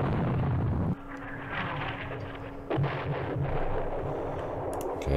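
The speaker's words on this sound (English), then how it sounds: "And then let's fire at those machine guns." Steady rumbling artillery and machine-gun fire from the Campaign Series Middle East wargame, a continuous muffled barrage with a sharp burst near the middle, heard without talk.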